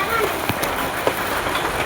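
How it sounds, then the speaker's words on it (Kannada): Rain falls steadily on a village fair day, a dense close patter on surfaces with a few louder drops and knocks through the short stretch. "ನಮ್ಮೂರು ಜಾತ್ರೆ ದಿನ ಮಳೆ ಬಂತು"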